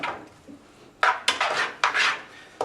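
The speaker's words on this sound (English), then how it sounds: "give it a little stir" Rapeseed oil and onions being stirred in a pan, with short scraping and rubbing strokes of a utensil against the metal, fairly close and growing more frequent toward the end, with no talk.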